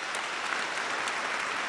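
A television game show audience claps for a contestant named Rita in a dense, even burst of applause that stays at a steady moderate level throughout, with no talk.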